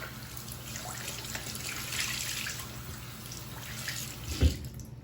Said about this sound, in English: And then we have to add water to these tanks.